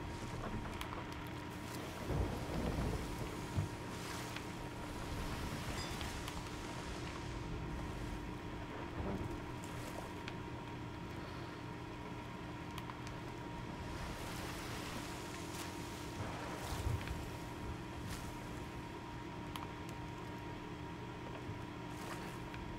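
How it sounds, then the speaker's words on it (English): A stormy sea in the pirate game Sea of Thieves: a steady wash of rain, wind and waves with occasional louder gusts and crashes, heard without voices for over twenty seconds. "Yeah, this is a dangerous storm."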